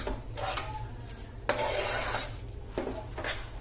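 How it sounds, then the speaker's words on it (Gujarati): Thick ginger sweet mixture cooked in sugar syrup is tipped from a pan onto a plate, with metal spoon-and-vessel scraping and clinks in a few bursts; no one speaks. "આ રીતે વાસણમાં ઠલવી અને આપણે એને પાથરી દઈશું."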